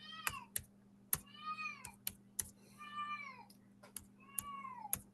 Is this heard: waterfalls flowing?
no